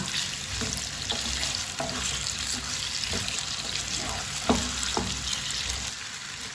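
Taro and potato pieces fry over high heat, a continuous close sizzle broken by several sharp spoon knocks and stirring scrapes, moderately loud and without speech.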